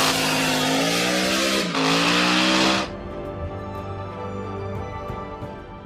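A V8-engined drag bike howls at high revs, loud and close, with a rising whining tone, a brief dip and renewed surge, then cuts off abruptly into a quieter low idle-like drone.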